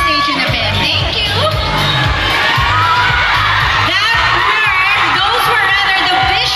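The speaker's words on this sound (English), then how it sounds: "let's give Direk Sigrid Bernardo and Richard Juan a big round of applause" A large audience claps, cheers and whoops loudly for two film directors on stage, a dense and continuous crowd roar with high shouts rising through it.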